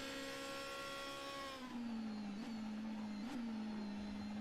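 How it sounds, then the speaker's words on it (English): Loud, steady DTM race car engines at Bathurst in a sim racing game, a single high-revving engine tone holding close and continuous, with slight pitch dips and blips as it shifts. "the sound of these engines are just beautiful"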